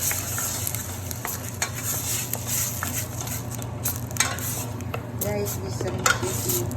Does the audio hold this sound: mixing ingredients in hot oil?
yes